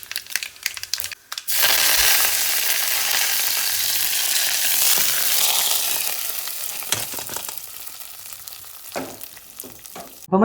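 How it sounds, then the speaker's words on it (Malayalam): Mustard seeds pop and crackle in hot oil for tempering a Kerala jackfruit curry, a loud, dense, continuous sizzle with sharp spattering bursts, easing slightly toward the end, with no talking. "അതിലേക്ക് ഇത് ആദ്യം കടുക് ഇട്ട് കൊടുക്കുന്നത്."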